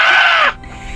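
A person imitates a crow with one loud, harsh, drawn-out caw that cuts off abruptly, followed by quiet room background.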